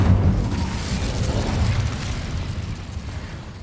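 Fire spell Incendio cast in Hogwarts Legacy: a loud, deep whooshing burst like an explosion that roars for a moment and slowly fades.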